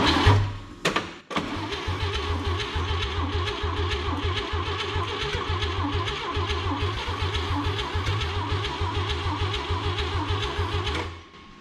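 A 1959 Chevrolet engine pulled from a junkyard cranks over and over without catching, a rapid rhythmic starter churn lasting about ten seconds after a brief false start, loud and close before cutting off.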